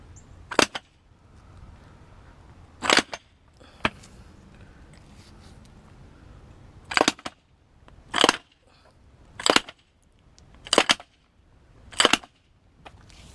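Sharp smacks on a part of a Toyota MR2 Turbo, about eight separate hard knocks spaced a second or more apart, close and loud against a quiet background.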